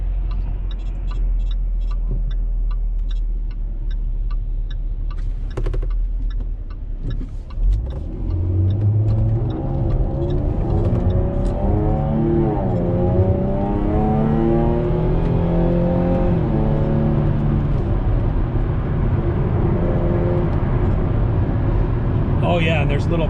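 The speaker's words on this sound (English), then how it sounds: "there's little cracks and burbles and whatnot in the exhaust" A base-model car's engine revs up under acceleration, its exhaust giving small cracks and burbles, the note climbing loudly and steadily from near the microphone while a person talks over it.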